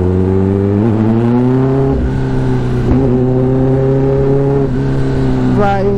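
A Kawasaki ZX10R sportbike revs while being ridden, its engine note rising and falling in steady swells, with brief gear-change dips, loud and close throughout.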